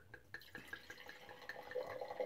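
Wine pours from a freshly opened bottle into a glass, a soft gurgling trickle that rises slightly in pitch as the glass fills, quiet and close.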